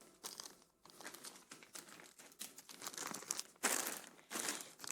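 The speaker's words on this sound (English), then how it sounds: "I can even put the plastic bags in here." Plastic bags being handled during unboxing and storage: continuous crinkling and rustling, close and busy, with louder crumpling surges and brief lulls.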